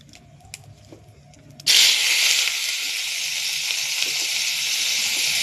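Chopped onion and garlic hit a hot pan for Bengali dal chorchori, bursting into a loud, steady hiss and sizzle that carries on evenly after faint kitchen clatter, close and without talk.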